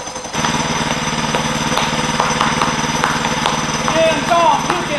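A mini bike engine running on a dyno, a loud steady close putter with a fast regular thump that continues without a break.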